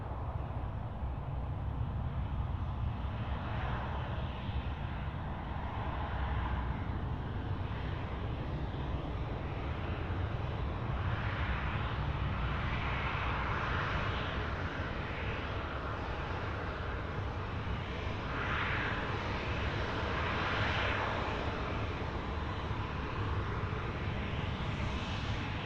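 Qantas 730 airliner landing on runway 16 right at Sydney Airport, a steady, loud broadband jet roar that holds for the whole stretch with swelling whooshes, no voices over it.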